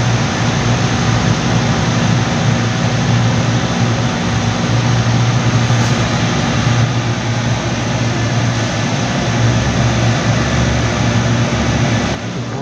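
Noisy air compressor with a slipping belt running continuously, a loud, steady mechanical roar and hum with no pauses, close to the listener.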